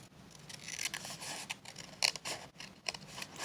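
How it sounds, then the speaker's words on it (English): Scissors trim the edge of a paper page in a junk journal, a few short crisp snips and rasping cuts heard close up, with no one speaking. "So you can just take your scissors and trim along there real quick."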